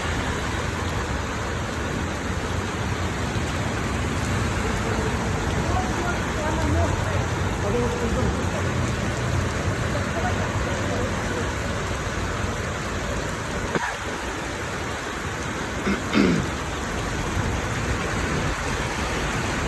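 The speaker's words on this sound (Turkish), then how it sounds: "şakır şakır yağmur yağıyor" Heavy rain pours in a dense, continuous hiss in Riga, Latvia, with a few brief knocks and rustles nearby partway through.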